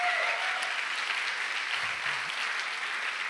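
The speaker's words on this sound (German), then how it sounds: "Können wir da mal einen Applaus geben?" A church congregation applauds steadily, a dense, even wash of many hands clapping that holds at the same level from start to finish.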